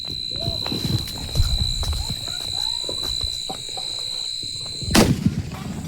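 Diwali firecracker bombs set off outdoors: small crackling pops and rumbles lead up to a single loud, sharp blast near the end, with a steady high whistle running underneath.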